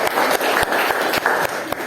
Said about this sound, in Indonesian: tepuk tangan untuk audien dan penjawab